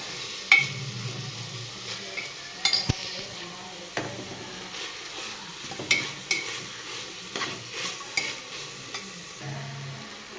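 Food being stirred and mixed in a frying pan, a spoon scraping and clinking against the metal over a steady low sizzle, with irregular knocks every second or so and no talk.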